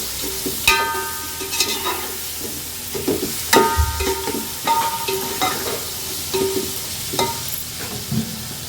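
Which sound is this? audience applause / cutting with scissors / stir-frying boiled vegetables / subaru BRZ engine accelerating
stir-frying boiled vegetables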